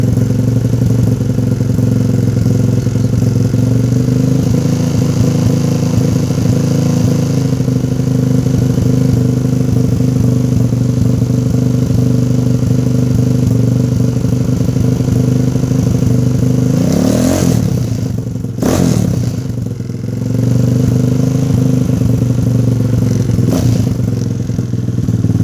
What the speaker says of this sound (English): Sometimes I have to actually start to rev it up.